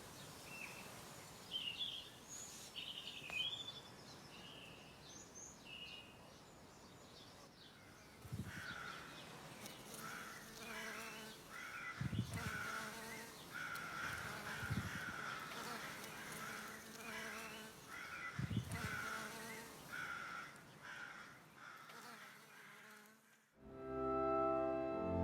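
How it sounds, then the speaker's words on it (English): Crows cawing and assorted birds calling from a sycamore tree in a garden, with bees buzzing around flowering Echium; a layered, continuous outdoor chorus of chirps and caws at moderate distance, with occasional louder calls. "listen to the bees in the Echium and all the birds in the sycamore tree."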